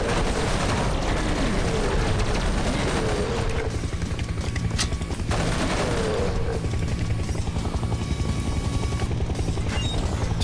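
Turret gunfire rattles through a Serious Sam 3: BFE shooter scene in continuous loud bursts. A helicopter's steady rotor drone runs beneath it along with other battle noise.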